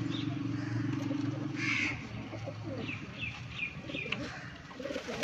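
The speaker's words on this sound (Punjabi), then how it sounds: "ਆਊਟ ਕਲਾਸ ਕਬੂਤਰ ਹਨ ਜਨਾਬ" Pigeons coo repeatedly from close by on a rooftop, soft rolling calls mixed with other bird chirps and a crow in the background, with faint voices now and then.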